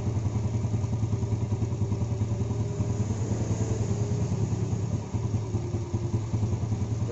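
A Yamaha Jupiter Z motorcycle engine idling after carburetor adjustment, a steady low, fast-pulsing putter close by, with a brief dip around five seconds and no talk.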